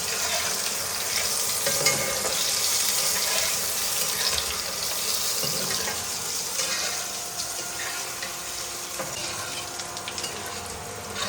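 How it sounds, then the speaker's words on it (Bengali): Potatoes fry lightly in oil in a pan with a dense, steady sizzle close by, a few stirring scrapes, and a faint watery rush underneath. "এর তেলেই আমি হালকা করে আলুটাকে ভেজে নেব"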